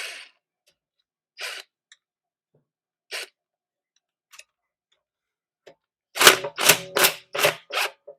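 An impact gun loosens brake caliper bolts on an 8th-gen Honda Civic Si: after a few sparse clicks, a run of about five short, loud, rattling bursts comes close together near the end, with no talking.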